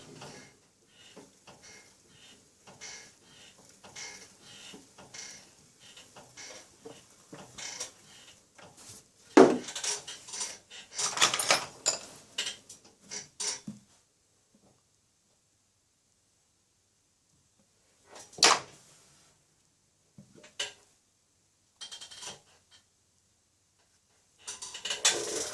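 A groggy glazed clay pot being smoothed off by hand, giving bursts of dry rasping and scraping that come and go in short strokes, with quiet gaps between and a few louder scrapes near the end.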